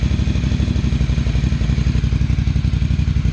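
A Ducati 800 Scrambler track bike on FCR carburettors idles at its first start, a close, loud, steady lumpy thump that pulses evenly throughout with no voices.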